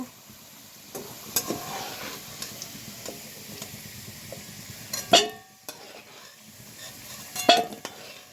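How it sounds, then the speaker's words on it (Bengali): Salted potato pieces fry in oil until browned, a faint background sizzle punctuated by several sharp clicks and scrapes of a utensil stirring in the pan. "আলুগুলো লাল লাল করে ভাজা হয়ে গেছে"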